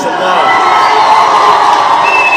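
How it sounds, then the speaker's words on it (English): Audience cheering and whooping for a woman being introduced on stage, a loud, continuous crowd roar with shrill high-pitched shouts over a sustained wash of noise. "let's give the beautiful Jess a round of applause"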